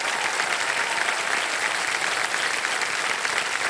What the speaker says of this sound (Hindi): तालियां बजते रहे पूजा जी के लिए।